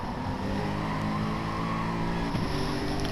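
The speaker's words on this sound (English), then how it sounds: "did I hear an engine in the background?" A quiet, steady engine drone hums in the background during a race, a continuous low rumble with no clear revving or passes.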